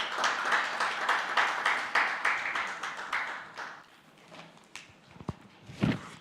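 Applause from a gala dinner audience, a dense run of clapping that starts strong and thins out after about four seconds, leaving a few scattered claps and light thumps.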